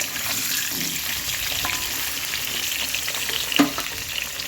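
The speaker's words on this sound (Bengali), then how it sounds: "ডুমো ডুমো আলুগুলোকে বেশ ভালো করে লাল করে ভেজে নেবো একটু লবণ দিয়ে" Diced potatoes fry with a little salt in oil for a country chicken curry, giving a steady, close sizzle throughout, with a few stirring scrapes and one brief louder clink near the end; no talking.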